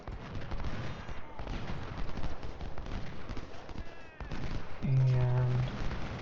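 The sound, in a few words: musket and artillery fire in video game Ultimate General Civil War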